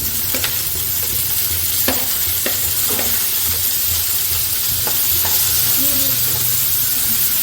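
Tomato pieces dropped into a pan of frying bitter gourd curry, with a steady sizzle and scattered stirring clicks and scrapes throughout, close and continuous with no talking.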